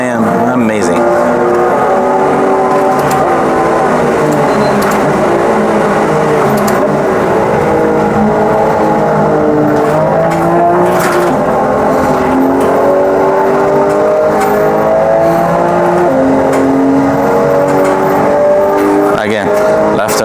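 A racing car in a sim racing game drones loudly and continuously, its engine pitch climbing and dropping through gear changes and revs for the whole stretch.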